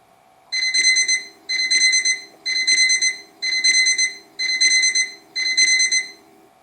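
Countdown timer alarm from a Python program beeps in six evenly spaced bursts, each a rapid electronic trill, clear and alone over a faint steady hum.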